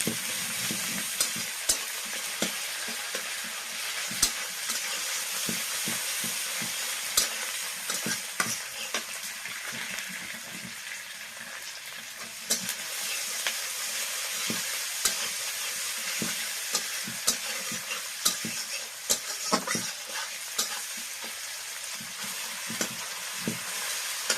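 Chopped ginger sautés in hot oil in a pan for a prawn and bottle gourd curry, a steady close sizzle broken by frequent scraping stirs of a spatula, with no talking throughout.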